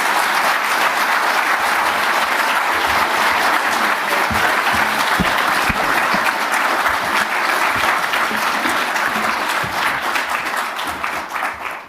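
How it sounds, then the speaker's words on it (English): An audience at a CSIS ASEAN leadership forum applauds loudly and continuously to welcome President Ferdinand R. Marcos Jr., a dense clapping wash that tapers off at the end. "So with your very warm applause, would you please welcome to the stage President Ferdinand R."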